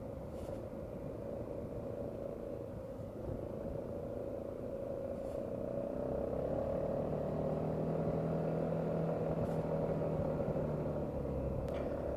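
A Honda Forza 250 scooter rides through a forest on a rural road, its engine giving a steady, close, low drone that swells slightly midway, with faint wind rush over it throughout.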